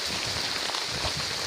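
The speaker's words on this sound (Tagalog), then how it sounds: "Sana po ay tumila na yung ulan mga ka-farm." Heavy rain pours down on a farm with waterlogged, saturated ground, a dense steady hiss of drops filling the space without pause and no voices.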